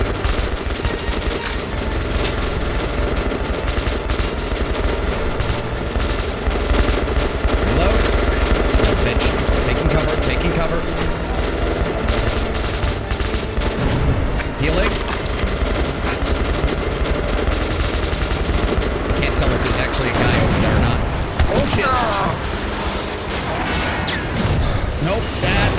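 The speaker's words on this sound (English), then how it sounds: "All sides, just keep firing." Dense, continuous automatic gunfire and explosions in a Metro video game battle, loud and unbroken throughout, with voices speaking over the shooting.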